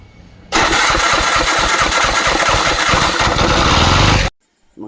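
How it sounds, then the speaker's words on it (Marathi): An auto rickshaw engine is cranked on its starter, catches at once and runs with a loud, close, chugging putter for about four seconds before it is shut off and goes quiet. "स्टार्टर मारते"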